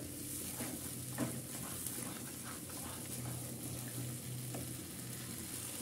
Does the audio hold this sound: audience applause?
no